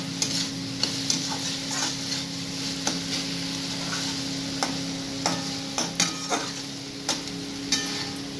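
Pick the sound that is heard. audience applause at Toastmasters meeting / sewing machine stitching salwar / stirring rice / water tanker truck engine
stirring rice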